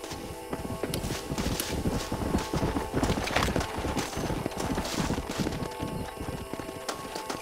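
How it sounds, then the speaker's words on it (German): Horse hooves clip-clopping in the Red Dead Redemption video game, a steady rhythmic walking gait close up, with a brief whinny amid game ambience. "Wo bist du, mein treues Streitross?"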